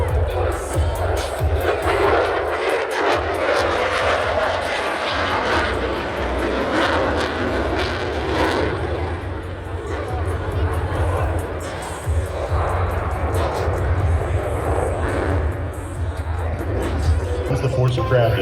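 An F-35C Lightning II fighter jet flies a four-point roll at an air show, its loud, continuous engine roar mixed with crowd noise and a commentator talking over it.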